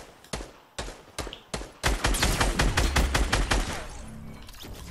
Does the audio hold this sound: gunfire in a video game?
yes